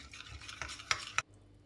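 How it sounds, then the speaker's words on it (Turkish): Batter mixture with baking powder stirred by hand in a bowl, giving a few soft, close scraping strokes that build to two sharper taps before stopping into quiet. "Kabartma tozuyla güzelce karıştıracağım"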